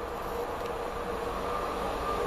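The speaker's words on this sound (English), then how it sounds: "Next on through for Chiltern Railways, 1H45 off Birmingham Snow Hill" A Chiltern Railways train from Birmingham Snow Hill to London Marylebone runs through Widney Manor station without stopping, a steady close rumble of wheels and engine held at an even level throughout.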